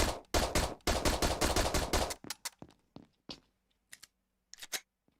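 Rapid bursts of gunfire from the parkour FPS shooter GunKour, a loud close volley of shots for about two seconds, then scattered single shots and clicks trailing off, with no voices.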